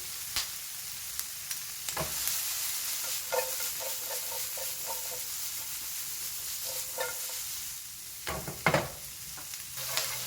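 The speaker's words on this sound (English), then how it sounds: "We're gonna brown the onions." Onions browning in a pan for braised chicken, a steady close sizzle punctuated by spatula stirs and scraping knocks, with no talking.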